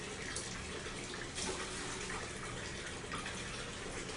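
Water runs steadily from a tap into a bucket while clothes are rinsed, a continuous close splashing gush that fills the whole stretch without any talk.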